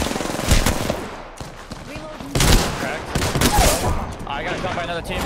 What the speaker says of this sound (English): I got shot by another team.